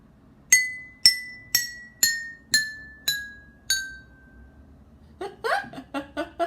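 Seven bright ringing tones from a metal spoon striking water-filled glasses, evenly spaced and descending in pitch, followed by quicker muffled taps.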